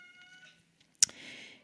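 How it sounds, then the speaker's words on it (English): A pet cat lets out a single short meow in the background of a quiet indoor recording room, a brief faint call followed by a soft hiss of room noise. "In case you can hear that cat in the background"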